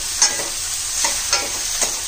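Sliced zucchini (turai) being stirred and fried on a high flame sizzles steadily and loudly, with about four distinct spoon-scrape stirs spaced through the clip.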